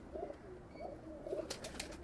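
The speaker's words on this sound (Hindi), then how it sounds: "ये पूरा कबूतर है, टेडी कबूतर।" A Teddy pigeon coos softly in a few low, rolling phrases, faint and close, over a quiet background with some light clicks near the end.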